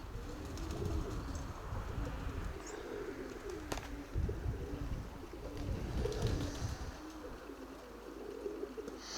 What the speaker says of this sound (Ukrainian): Так, ну сідають голуби, сідають.